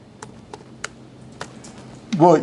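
Slow, sparse taps on a computer keyboard while text is typed into a text box, about five separate key clicks spaced apart, followed by a voice starting to talk at the end.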